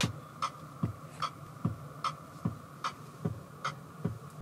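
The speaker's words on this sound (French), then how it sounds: "il y a un truc vraiment bizarre, c'est le bruit du clignotant" A steady, rhythmic ticking repeats about twice per second over a low hum, a soft clicking turn signal inside a Jeep Avenger cabin.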